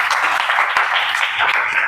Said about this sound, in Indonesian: Yuk tepuk tangan buat kita semua.